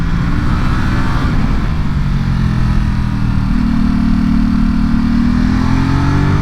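Ducati SuperSport 950S twin-cylinder motorcycle engine pulling hard under acceleration, a steady loud droning exhaust with rising pitch, close and continuous throughout with no talk.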